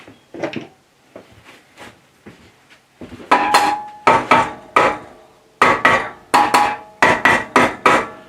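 A nylon mallet taps a bandsaw table across its face while it is set in place on a BS250 bandsaw, sharp knocks coming first softly and scattered, then loud in quick groups of two to four close blows.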